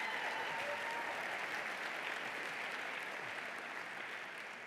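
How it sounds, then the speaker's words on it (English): Audience at an MIT delta v startup demo day clapping, a broad, even roar of many hands at moderate distance that holds steady and only slightly fades toward the end. "notice the back rows are clapping"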